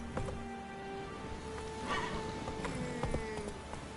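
Roach, a horse in The Witcher 3, gallops with rhythmic hoof clops and a brief whinny, moderately close, over steady ambient game music tones.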